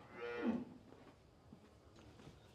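A cow at a cattle market gives one loud, low moo near the start, then quieter market shuffling and faint knocks follow.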